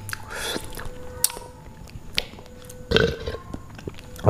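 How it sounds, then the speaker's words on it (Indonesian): A man eating bakso from a street vendor lets out a couple of close, loud burps between quieter chewing and mouth noises, with a strong burst near the middle and another at the end. "maaf guys ya kalau saya bersendawa guys"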